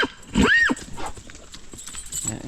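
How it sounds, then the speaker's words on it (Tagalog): A horse on a rural family property gives a short, loud whinny early on, followed by quieter shuffling and faint hoof movement in the open air. "Ito ng kabayo sa lola ko po"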